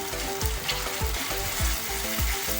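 Tomato frying in a pan for spicy mutton kheema, a steady close sizzle with soft rhythmic stirring scrapes recurring every half second or so, no voices.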